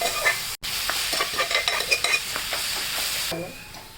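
Clam meat tossed with spice powder stir-fries in a pan, steady sizzling broken by repeated scraping strokes of a spatula, a brief dropout early on and the frying fading near the end.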